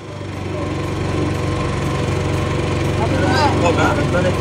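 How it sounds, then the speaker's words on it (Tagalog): A PK8000i generator, switched on by remote start, runs with a steady, loud engine hum that swells slightly at first and then holds constant, while people talk faintly over it. "ginamit ni Ma'am yung remote start ng generator"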